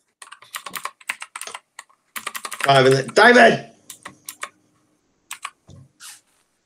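Close computer keyboard typing in rapid bursts of clicks with pauses, while a person briefly speaks in the middle.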